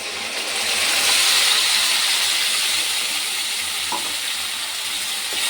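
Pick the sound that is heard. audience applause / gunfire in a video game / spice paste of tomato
spice paste of tomato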